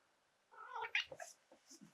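A cat named Corey, bringing over a mouse toy, lets out a drawn, wavering meow followed by a few shorter chirping cries, close and moderately loud against a quiet room.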